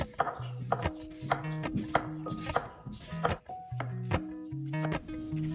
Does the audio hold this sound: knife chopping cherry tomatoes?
yes